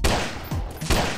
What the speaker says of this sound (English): Oh, you're shooting me, bro?